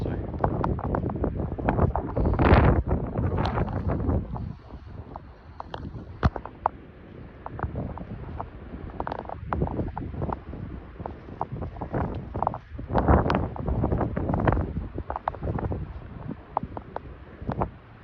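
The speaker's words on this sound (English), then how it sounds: "as I'm making this video, it is very, very windy" Strong gusts buffet the microphone outdoors at an air museum, loud low-frequency rumbling and thumping bursts that come and go irregularly throughout, with no clear speech.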